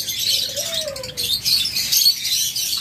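Pet birds such as lovebirds, budgerigars and cockatiels chirp in a busy high twittering chorus at a bird sale, with a clear rising whistle early on and soft flutters, near and steady.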